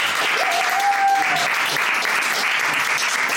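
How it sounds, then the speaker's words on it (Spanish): Applause from a classroom group after a teacher wins a match, a steady burst of clapping that fills the whole short moment at close range. "Un aplauso,"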